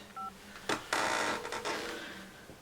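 A telephone number is dialed: a couple of short touch-tone beeps, then clicks and a rushing line noise as the call connects.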